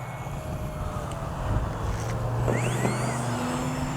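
An FMS 1800mm Ranger RC plane doing a touch and go, its electric motor droning steadily with shifting pitch against wind noise, rising and sweeping as it passes, no talk.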